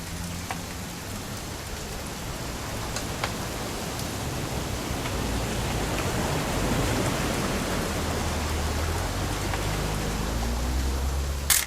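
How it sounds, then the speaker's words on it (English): Steady rain pours throughout, a dense, even hiss with scattered louder drops, in the video game What Remains of Edith Finch; low tonal ambience hums underneath and no one speaks. "It's gonna rain the whole weekend, isn't it?"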